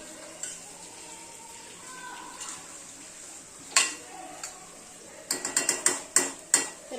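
Chicken biryani sauce being mixed in a pot, a low sizzle under soft spoon scrapes, then a quick run of sharp metallic clinks of the spoon against the pot near the end.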